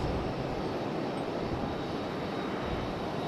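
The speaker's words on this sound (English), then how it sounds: "We're going to go for our JetBlue A220 out there in the distance." A JetBlue Airbus A220 jet airliner at Raleigh-Durham International Airport gives off a steady, broad, distant engine roar with no talking over it.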